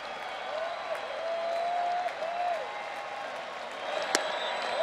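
Baseball stadium crowd on its feet at a Braves home game against the New York Mets in Atlanta, a steady loud roar of cheering and applause with a few sharp whistles rising over it.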